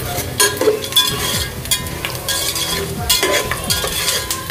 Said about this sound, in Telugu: ఇవి వచ్చేసి మినపప్పు పల్లీలు అండి. పల్లీలు లైట్గా వేయించుకున్నాను.